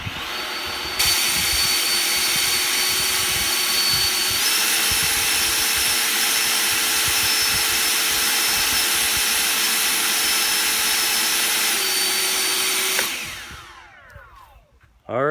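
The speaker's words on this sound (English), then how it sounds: "The first test with the decibel meter is going to be with the Ego in turbo mode." An EGO cordless leaf blower runs at full speed in turbo mode, a loud, steady high-pitched whine and airy rush that starts abruptly, shifts pitch briefly, holds for about twelve seconds, then winds down.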